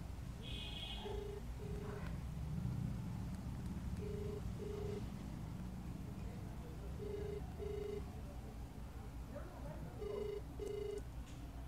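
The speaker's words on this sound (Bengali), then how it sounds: "রিং হচ্ছে।" A phone call ringing out on speakerphone, four evenly spaced pairs of short ring tones, faint over low room noise as people talk quietly nearby.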